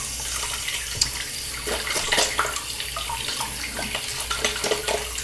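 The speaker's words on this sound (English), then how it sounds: "rinse my hands" Water runs steadily from a tap as hands are rinsed under it. The splashing flow is close and fairly loud, with small irregular changes as the hands move through the stream.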